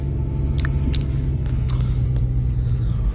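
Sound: car driving on a road

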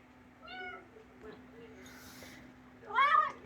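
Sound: cat meowing

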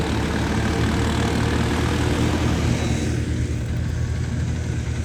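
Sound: tractor engine running

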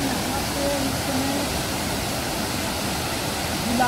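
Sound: waterfall

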